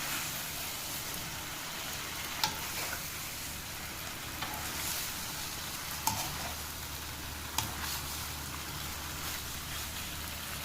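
Broccoli and beef stir-fry in a pan, a steady soft sizzle with a few sharp clicks of a utensil scraping and stirring, close and moderately quiet with no talking.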